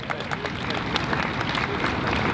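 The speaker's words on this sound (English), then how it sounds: "Yes, we can applaud them as well." A crowd at an outdoor animal-rights march claps, giving a steady, dense wash of applause that stays loud and even throughout the short stretch.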